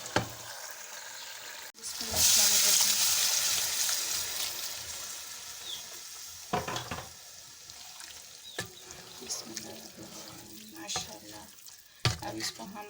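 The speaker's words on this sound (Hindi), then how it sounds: "इसमें अब हम दाल ऐड करेंगे।" Boiled chana dal going into fried masala with oil risen to the top, bursting into a loud hissing sizzle that slowly fades, then scattered stirring scrapes and clatters in the pan, with brief muffled voice sounds.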